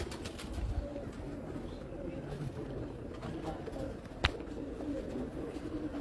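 A female pigeon coos in soft low repeated calls, faint under steady outdoor background noise, with a single sharp click partway through.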